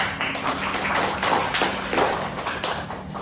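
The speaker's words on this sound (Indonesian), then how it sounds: "Tepuk tangan dulu untuk teman kita" Schoolchildren in an elementary classroom clap for a classmate, a scattered, uneven patter of hand claps close by that continues for a few seconds.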